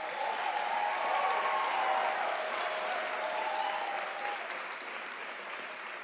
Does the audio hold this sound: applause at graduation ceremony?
yes